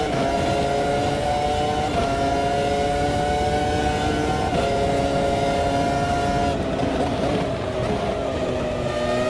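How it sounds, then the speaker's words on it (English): Formula One cars with V10 engines race in the game Automobilista 2, their high-pitched wailing engines droning loudly and continuously, pitch dipping and climbing as gears shift, with no talk over them. "But at least I get to hear V10 engines."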